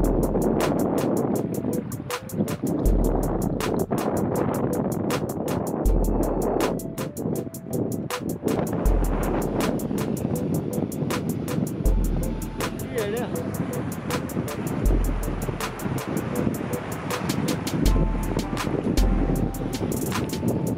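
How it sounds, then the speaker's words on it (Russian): Strong stormy wind buffets the microphone on a rocky Karelian river while a boat motor drones steadily underneath, a continuous rough roar with rhythmic low thumps. "Ну, вы слышите, что делается? Просто такой штормовой ветер"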